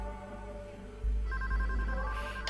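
A telephone rings inside the PayDay 2 heist game, steady electronic ring tones repeating over a low, continuous in-game hum, fairly loud and without speech.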